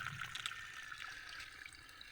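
Water flows and trickles faintly at an outdoor laundry washing spot, a soft continuous wash of running water with light splashy ticks and no voices.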